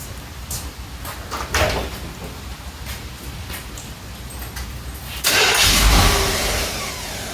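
A 1977 Chevy C10 Cheyenne pickup, just fitted with a new fuel pump, cranks and fires up. A few faint clicks and knocks come first, then the engine catches with a loud roar and settles into a steady, close idle.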